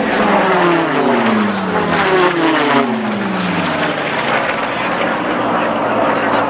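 Merlin-engined unlimited racing aircraft at the Reno air races sweeping past with a steady, loud drone whose pitch slides downward as it goes by, under continuous crowd and commentary noise.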